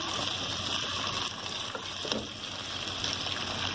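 Chicken shashlik sautéing in a pan, a loud close continuous sizzle and crackle of frying with faint stirring and no talk.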